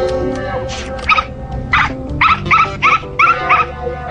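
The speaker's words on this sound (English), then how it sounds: "right next to a noisy dog" A noisy dog in an establishment's room in the animated series Code Lyoko barks about nine times in short, loud bursts, with quick yips and whimpering tones between the barks.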